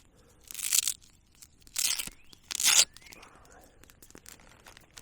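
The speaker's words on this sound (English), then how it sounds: "It's got a big Velcro spot here that you can place patches." A Velcro patch is pressed onto a tactical pouch, giving three short rasping tears and crunches in quick succession, close and fairly quiet, with soft background noise between bursts.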